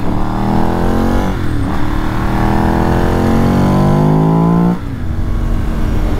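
A 2006 Ducati Monster S4RS runs on a small road under load, its engine note rising steadily through the revs, dipping briefly at a shift, then climbing again before easing off near the end; loud and close, no talk.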